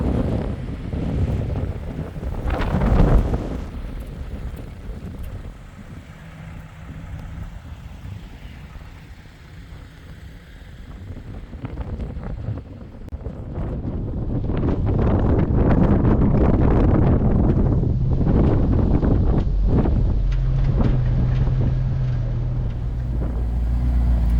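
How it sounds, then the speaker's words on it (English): Cold wind gusts across Bethel Ridge during an off-road 4x4 trip in Eastern Washington, buffeting the microphone in a steady roar that swells louder in the second half, with vehicle rumble mixed underneath. "The wind is very, very cold."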